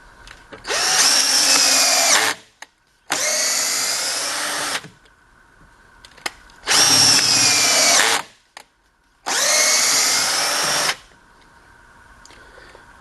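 A cordless power drill running on a Harbor Freight lithium battery drives a screw in four long bursts of about two seconds each, separated by short pauses, loud and close.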